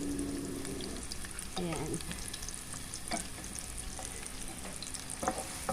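Garlic fries in a pan for a creamy chicken with mushroom dish. A continuous sizzle runs the whole time, broken by occasional scraping stirs, and a voice speaks a single word over it.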